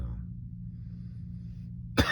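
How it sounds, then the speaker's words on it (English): A single sharp cough bursts out near the end, following a stretch of quiet low hum. "there's that cough."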